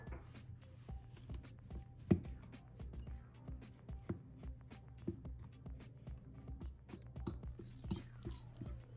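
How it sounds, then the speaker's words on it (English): A fork mashes cold butter into a crumb topping in a bowl, making soft, irregular scraping and tapping clicks against the dish that come quietly and close, with one sharper knock near the start. "you're gonna mash this together with the fork until it resembles"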